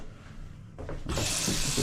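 Water from a tub faucet starts running out of PEX pipes, first a brief sputter, then a steady, loud hissing rush that continues nearby.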